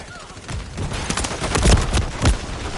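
Gunfire in Call of Duty Modern Warfare 3, a short burst of several sharp shots with deep thumps, loud and close, mixed with faint party chatter in the background.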